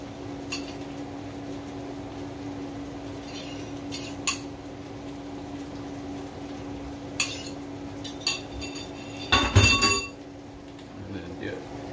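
Eggs are added to a pan of farmer's breakfast and mixed, bringing scattered clinks of a utensil against the pan and occasional scraping stirs, ending in a louder cluster of clatter, with a low steady hum underneath.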